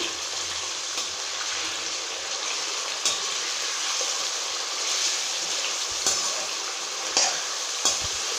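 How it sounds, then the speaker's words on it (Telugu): Chicken pieces on the bone frying slowly over a low flame for chicken pickle, a steady broadband sizzle with occasional soft clicks and bumps from the pan, close and continuous with no voices. "ఇది స్లో ఫ్లేమ్లో ఒక హాఫ్ అన్ అవర్ పాటు చక్కగా బాగా బ్రౌన్ కలర్ వచ్చే వరకు వేయించుకోవాలి"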